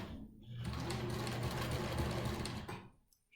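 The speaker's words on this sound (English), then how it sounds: "I'm going to complete the seam down to the bottom and then backstitch." A sewing machine runs a continuous seam on a fabric face mask, a fast steady buzzing whir that starts after a brief pause, holds for a few seconds and then stops, close and alone.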